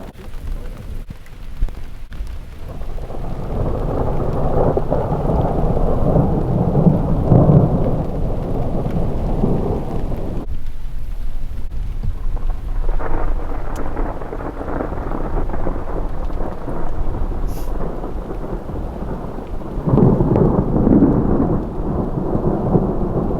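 A strong thunderstorm in Charente in June brings long, heavy rolls of thunder over constant pouring rain, with booming swells rising and easing again and again and no speech.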